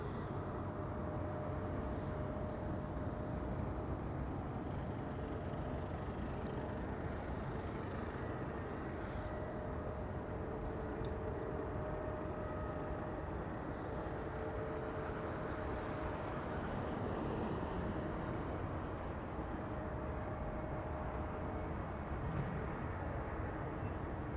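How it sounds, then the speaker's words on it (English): A KLM Embraer E195-E2 jet lands at Amsterdam Schiphol, its broad steady roar of engine noise and thrust reverser use holding throughout at moderate distance, with no voices. "E2 Embraer 195 to Billund is in the meantime arriving over here."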